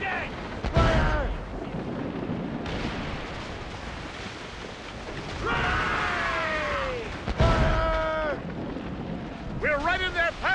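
Warship cannon fire in the naval battles of Assassin's Creed Rogue, heavy booms over wind and sea noise, with shouted crew voices in between.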